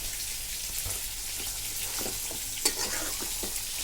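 Taro leaves tossed into spices frying in a pan and stirred, giving a steady close sizzle with soft scraping and a sharper clink near the middle, no voices.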